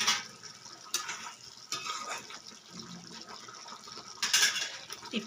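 Oil heats to a boil in a cooking pan before spinach goes in, giving a steady soft sizzle and bubbling with a few sharper crackling bursts and no talking.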